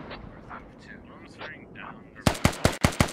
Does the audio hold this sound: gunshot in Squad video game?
yes